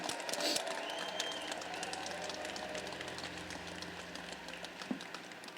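Fairly quiet, sustained applause from a big crowd at a law school commencement ceremony, a wash of clapping heard from a distance with occasional louder claps.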